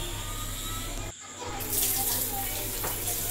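Hot water gushing from a newly installed water heater's tap after air clears from the line, a brief sputter and pause followed by a strong, steady hissing flow, close by.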